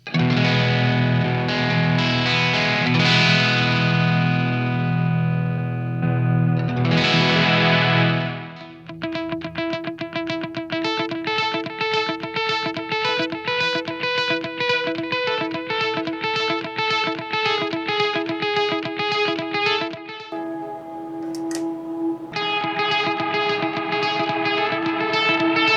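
Electric guitar with light crunchy overdrive from an MS3's Blues Driver plays sustained chords, then shifts to a steady, fast picked pattern with echoey repeats, loud and continuous, recorded at line level.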